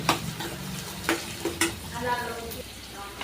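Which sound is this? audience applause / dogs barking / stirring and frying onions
stirring and frying onions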